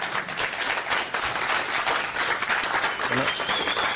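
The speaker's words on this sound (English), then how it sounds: "Let's get a round of applause," A conference audience gives a panel a round of applause, with steady, full clapping and some crowd voices, heard at moderate distance and fairly soft overall.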